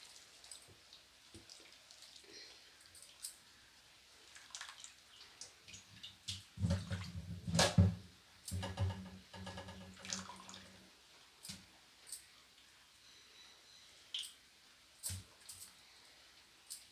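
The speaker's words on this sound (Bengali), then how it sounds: "এবার গরম জলের মধ্যে এইভাবে একটু হাত দিয়ে রগড়ে রগড়ে ধুয়ে নেব প্রথমে" Dried shrimp being rubbed by hand and washed in hot water, producing soft irregular splashes and wet swishing, with a louder splashy stretch in the middle and scattered drips and sloshes after, close and fairly quiet.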